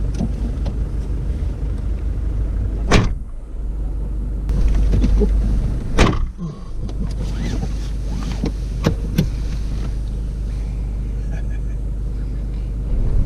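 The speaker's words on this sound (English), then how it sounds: "Well, this is four-wheel driving." A four-wheel drive vehicle grinds up a rough track, its engine a steady low rumble with wind noise and occasional bangs and jolts from the body, and voices talk in the cabin at times.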